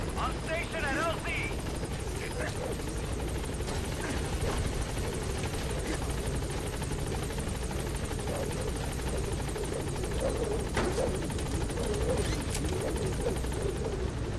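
Helicopter arriving in Metal Gear Solid V, a continuous loud rotor thrum and engine whine holding steady throughout, with a radio voice speaking over it.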